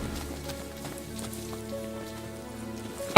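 Steady rain falls in the video game Final Fantasy XV, a continuous patter layered over a soft, sustained musical drone, with no voices.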